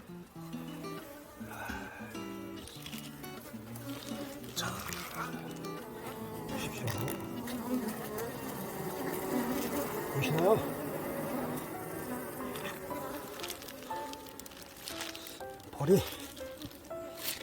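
Honeybees buzz steadily around a hive after two colonies are merged, a dense, close hum that runs under someone talking in Korean.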